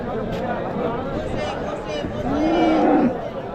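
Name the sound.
Holstein Friesian (HF) cow at a cattle market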